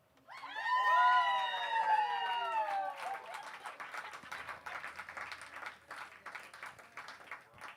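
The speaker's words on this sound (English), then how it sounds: "That clapping was way too loud." Applause and cheering swell from a crowd at a live concert, opening with loud shouts and whoops, then settling into steady, dense clapping that continues to the end.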